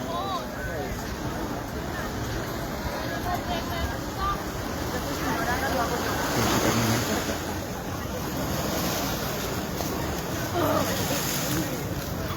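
Waves crash against the seawall at Waikiki, Hawaii, a continuous rushing wash of surf with swells of louder splashing, heard under ongoing conversation.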